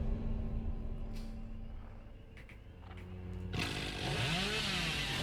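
Hillbilly's chainsaw in the game Dead by Daylight: a low motor idle that revs up suddenly into a loud, sustained roaring buzz, with no talk.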